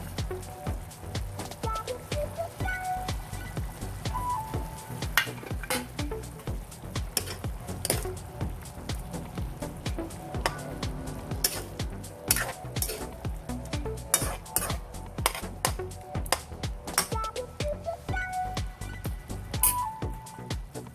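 Pork steak frying in a pan, a constant close sizzle with frequent clinks and scrapes of a utensil stirring against the metal throughout.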